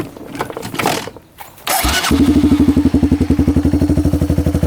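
A cheap used 4x4 ATV engine cranks with a few uneven bursts, catches, and settles into a loud, steady, rapid putter of a slightly high idle.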